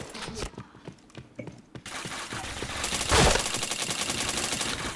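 Video-game gunfire comes in quick bursts, first scattered sharp shots and then a dense, sustained rattle of automatic fire with a heavy blast in the middle, loud and close.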